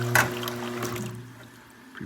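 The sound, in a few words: water rinsing cup at home espresso machine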